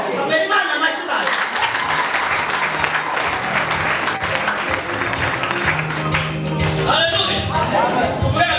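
A church congregation applauding loudly, sustained dense clapping from a large crowd with voices calling out over it.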